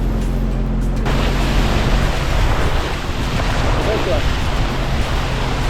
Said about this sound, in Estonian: Laine, kerge laine.